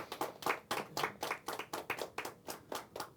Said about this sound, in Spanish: Denle un aplauso fuerte al Señor si está de acuerdo con este concepto